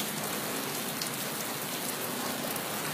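Natural rain falls steadily as a dense, even hiss spread wide across the range, constant and close throughout with no voices.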